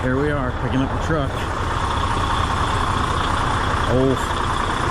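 A Freightliner day cab truck engine idles with a steady low rumble throughout, close and continuous, while a person talks over it in short bursts.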